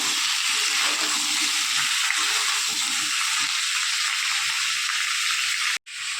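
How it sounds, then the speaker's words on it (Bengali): Potatoes fry in a pan for a pointed gourd and prawn curry, giving a loud, steady hissing sizzle that runs without pause until a brief cutoff near the end. "আলুটাও ভেজে নিচ্ছি, পটলের আলু।"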